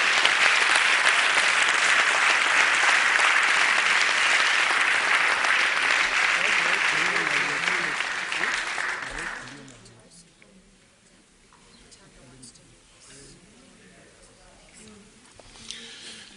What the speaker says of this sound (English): I felt the reverberation of that hand clap